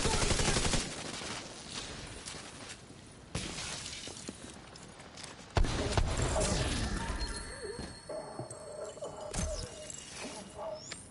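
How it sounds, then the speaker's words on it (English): In The Division 2, a minigun fires in loud sustained bursts amid crashing, shattering impacts and other game effects, with sudden surges in volume and a few pauses between volleys. "Going for the minigun."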